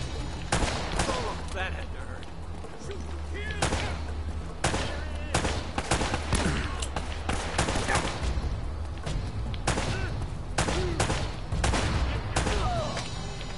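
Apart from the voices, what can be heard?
gunfire shooting a barrel in Uncharted: Drake's Fortune video game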